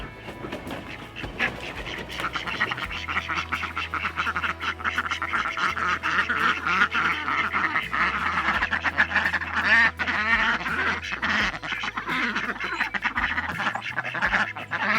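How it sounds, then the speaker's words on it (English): Ducks quack steadily and loudly, a busy overlapping chorus of calls from several birds close by over a low rumbling background hum. "So let's go let out the ducks."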